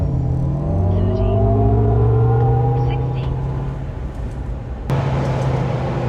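A 9,000-pound, 1,000 hp Hummer EV pickup accelerates hard from 0 to 60, its electric motor whine rising steadily in pitch over a heavy rumble, loud and close, with a thump near the end and people talking over it.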